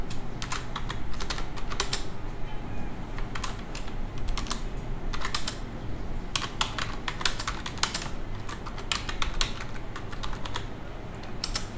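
Keystrokes on a computer keyboard in a simple word processor, bursts of quick clicking taps separated by short pauses, close and clear over a faint background hum.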